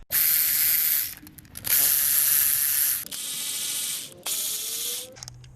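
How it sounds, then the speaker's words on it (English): A ratchet wrench turning a fastener on a clean RT4WD vehicle, four bursts of rapid clicking ratcheting, close and loud, separated by short pauses. "I need my ratchet."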